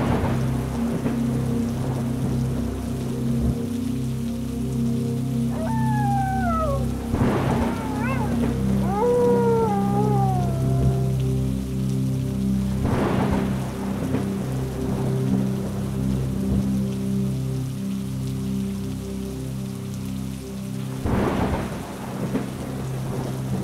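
Steady heavy rain pours down with rolling thunder rumbling several times in the distance, while faint bird calls and a voice are heard briefly under the downpour.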